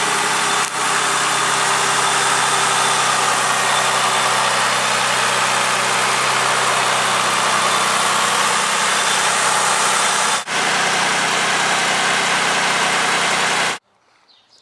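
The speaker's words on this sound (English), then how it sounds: "And I'm going to start my engine back up and check for leaks." A car engine, restarted after a coolant flush, idles in a steady, loud, even drone for about fourteen seconds, then cuts off abruptly. A brief dip in the hum occurs partway through.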